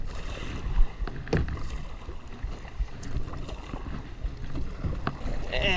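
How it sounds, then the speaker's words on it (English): Kayak paddle strokes dipping into the water off a beach during a shark fishing trip, with splashes and drips over steady wind and surf noise, one sharper splash near the start and no talk. "All set up, now let's paddle back in."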